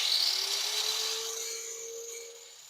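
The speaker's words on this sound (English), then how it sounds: "we're just going to grind it off." An angle grinder cuts through an old galvanized drain pipe on a concrete laundry sink, a sustained high whine with a steady tone that slowly fades, close and loud with no voices.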